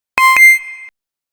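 A bus tracking device at a bus stop gives a short electronic notification: two quick, bright beeps close together, the second ringing on briefly before cutting off, loud and close with no talk.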